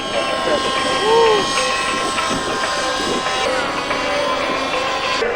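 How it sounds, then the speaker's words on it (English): A 60-size model helicopter with a 10cc motor flying at an outdoor air show, giving a steady buzzing engine drone that swells slightly as it passes, with a voice talking over it. "that is the 60 size helicopter featuring the 10cc"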